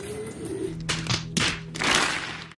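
Racing pigeons landing on a roof: a few soft thumps and wing flutters in short bursts, with faint cooing and outdoor background between them.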